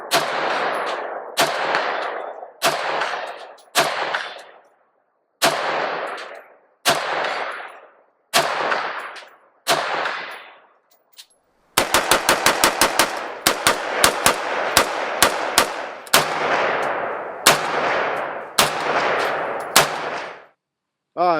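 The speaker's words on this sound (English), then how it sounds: "So all right, let's continue shooting." MARCK-15 Hydra rifle fired at an outdoor range: loud, close single gunshots spaced a second or so apart, then a rapid burst of quick shots, then more slow, evenly spaced single shots, each with a short ringing tail.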